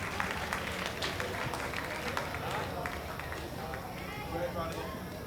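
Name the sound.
applause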